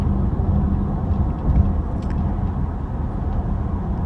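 Steady low road rumble from a Tesla driving on a Toronto highway, a constant broadband hum with no distinct events and no talking.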